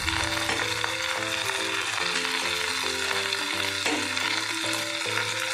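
Eggs fry in a pan for Bengali egg paturi with a continuous hiss and crackle, while background music plays throughout.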